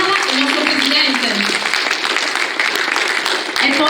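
An audience at the 2020 Città di Olbia literary prize ceremony applauds the jury members in a loud, dense, continuous wash of clapping that fills the whole stretch, with a voice speaking over it.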